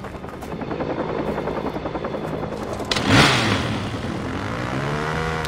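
Helicopter in the Watch_Dogs video game, a steady rotor buzz and engine drone throughout, swelling to a louder whooshing pass near the end, with no talk over it.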